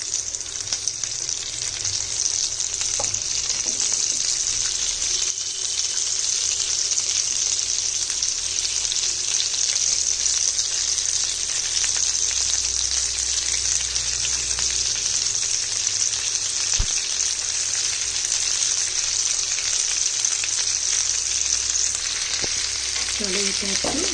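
Petal-cut onions fry in a hot pan for a chili chicken dish, giving a loud, steady sizzle with no break, and a few faint clinks toward the end.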